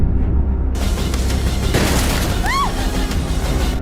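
A grenade goes off during a shootout in an action film: a single heavy burst cuts through dense, constant battle noise, followed by a brief rising whistle.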